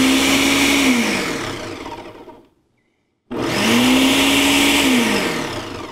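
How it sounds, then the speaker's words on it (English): Ninja Smart Screen Blender DUO vacuum blender with three blades, lid closed, running a preset cycle: a loud, steady motor whir that ramps up, cuts to brief silence, then roars back, with no talk. "We're going to put our lid down and we're gonna close it up and it just runs."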